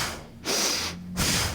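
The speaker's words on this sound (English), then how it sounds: "a forceful inhale and a forceful exhale" Rapid forceful Bhastrika yoga breaths rush in and out, a noisy hissing inhale and exhale pattern repeated closely, loud and near.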